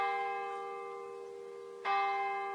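A church bell's resonant tone hums and slowly fades, then a fresh strike renews the ringing, clear and alone.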